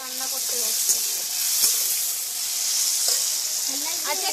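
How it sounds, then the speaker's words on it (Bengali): Cauliflower fries in hot oil with a steady bright sizzle throughout, close and fairly loud, while faint voices murmur in the background. "প্রথমে এখন ফুলকপি ভাজা হবে।"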